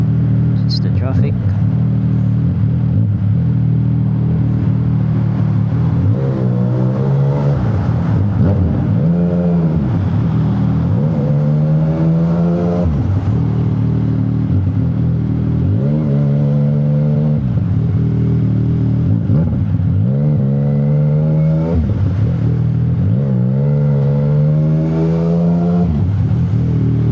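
CFMOTO 675NK motorcycle engine rumbling through rush hour traffic on an expressway, with steady low drone and repeated rising rev sweeps as the rider accelerates between slowdowns, loud and close throughout.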